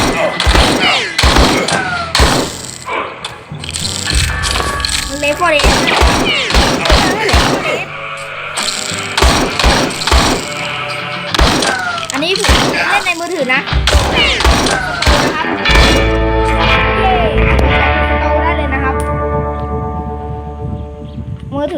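Rapid bursts of gunfire in the Left 4 Dead mobile shooter game, dense repeated shots and impacts running throughout, loud and continuous, with a voice talking over the action.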